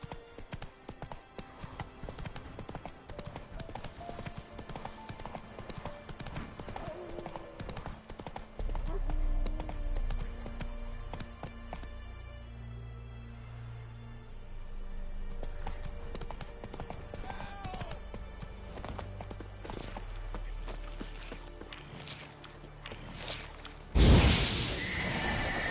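A horse in The Witcher 3 gallops with fast, rhythmic clip-clopping hooves, neighing loudly at intervals, and a sharp loud burst comes near the end.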